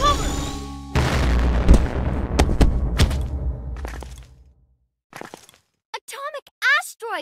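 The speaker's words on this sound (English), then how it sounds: "It's going to explode!" A loud explosion in the PJ Masks Power Heroes video game, a sustained rumbling blast with cracking hits that fades after a few seconds, followed by short bursts of animated voices.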